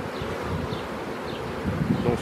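Honeybees buzz steadily around hive frames during queen rearing, a continuous close drone of many insects with no voices.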